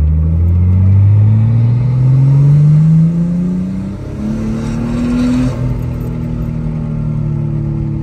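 A Nissan Skyline R34 GT-T engine runs steadily in a driveway, rising and falling in pitch as it revs up and settles, loud and close with a deep rumble throughout.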